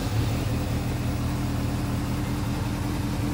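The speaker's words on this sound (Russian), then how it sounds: "Заводим мотоцикл." Honda CBF600SA motorcycle engine running at a steady, even idle up close, a continuous low rumble with no talking.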